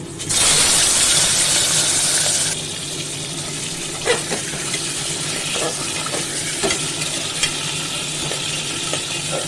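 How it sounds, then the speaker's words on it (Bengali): Small fish frying in hot mustard oil in a home kitchen, a loud bright sizzle bursting up as the fish goes in, then settling into a steady lower crackle with occasional pops and spatters. "আমি এখন গ্যাস কমিয়ে মাছ দিয়ে দেবো মাছটা একবার করে সাঁতলে নেব"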